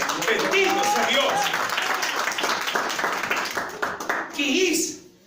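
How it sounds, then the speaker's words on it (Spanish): A church congregation breaks into steady applause during a Spanish-language sermon service, the clapping running continuously under a preacher's speech and fading out at the end. "El aplauso a mi Señor."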